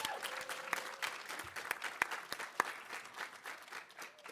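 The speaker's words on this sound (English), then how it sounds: "So give yourselves a round of applause." Applause from an audience at a campus arts awards ceremony, a dense, steady patter of many hands clapping at moderate distance with scattered sharper claps and no talking.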